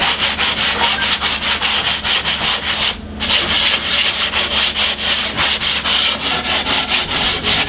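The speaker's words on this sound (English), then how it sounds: "we'll give it a light sanding just to get rid of any burrs" Steady back-and-forth sanding of wood, quick rhythmic rasping strokes close up, continuous with a brief pause partway through.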